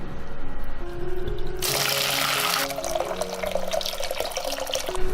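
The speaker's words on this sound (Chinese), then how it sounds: "炒出糖色后，加入开水。" Boiling water poured into a pot of caramelized rock sugar for braised beef, a sudden loud hissing rush of liquid that starts after a quieter kitchen moment and settles into steady bubbling and splashing.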